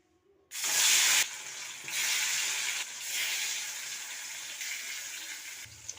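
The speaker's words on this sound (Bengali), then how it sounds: "এবার মাছটাকে ভেজে নেব।" Fish dropped into hot oil in a wok bursts into a loud, sudden hiss that settles into a steady, slightly softer frying sizzle, close by with no talk.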